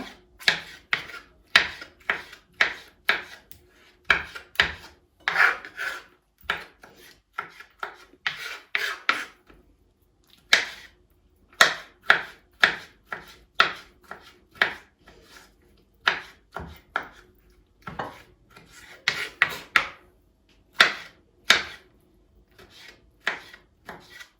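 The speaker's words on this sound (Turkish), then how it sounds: "Şimdi domateslerimi doğrayayım" Steady rhythmic knife strokes on a cutting board as tomatoes are chopped, brisk repeated chops with short pauses, close and clear, no talking.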